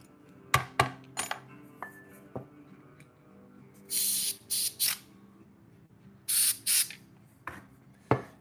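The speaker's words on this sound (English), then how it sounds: "I'm just using a little bit of compressed air to blow out those broken supports that are stuck inside of the leg" Short bursts of compressed air blow broken support material out of the inside of a 3D-printed figure's leg. About six loud hissing puffs come in quick pairs over light clinks and handling noise, with no talking.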